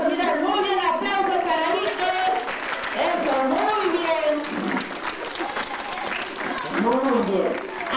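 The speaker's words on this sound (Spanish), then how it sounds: "Muy bien, aplauso." Steady applause from a crowd of children and adults at a school ceremony fills the whole stretch, with voices calling out over the clapping.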